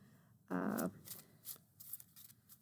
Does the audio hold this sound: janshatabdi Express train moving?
no